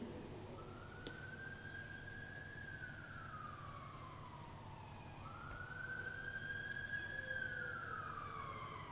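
A police or emergency siren wails from a distance at a lacrosse playoff game, rising and falling in long slow sweeps over a quiet background during a moment of silence, with no voices.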